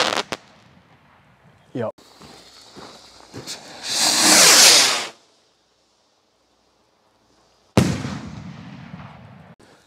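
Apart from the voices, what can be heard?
Radioactive firework rocket launching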